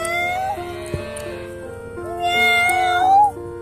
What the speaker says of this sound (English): Cat is meowing back.